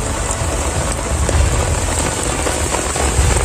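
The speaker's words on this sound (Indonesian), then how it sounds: "berhubung ini hujannya deras banget dan takutnya ada petir" Heavy tropical downpour pours steadily and loudly during a snake-hunting outing, a dense unbroken roar of rain close by with no voices.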